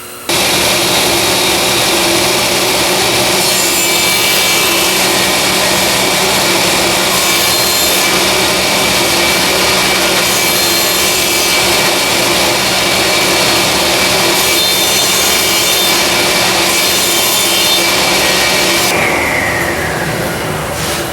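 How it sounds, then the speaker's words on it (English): A table saw cuts a notch in walnut wood, giving a loud, sustained whirring blade and machine drone with grinding cutting noise that holds steady before tapering off at the end. "I preset up the table saw and fence along with the blade height"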